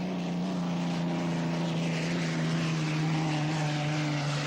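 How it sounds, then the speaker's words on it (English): A turbine-powered hydroplane racing boat runs at speed during a race, its engine a loud continuous whining roar that holds steady and swells slightly as it passes, with no talk over it. "Steve Reynolds on the outside, the Vietnam veteran, former helicopter pilot coming down the outside in that turbine boat"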